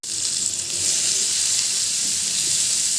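Chopped onions sizzle steadily in hot fish oil, a close, continuous hiss and crackle that swells slightly after the start and holds without pause.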